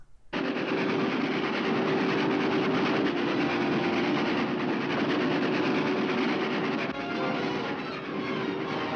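A train runs steadily and loudly, a continuous rushing clatter of wheels on track with a sustained tonal hum, no voices.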